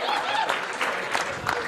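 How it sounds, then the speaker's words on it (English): A comedy club crowd breaks into brief clapping and cheering, a busy, close burst of applause with some voices mixed in, lasting under two seconds. "Man, round of applause."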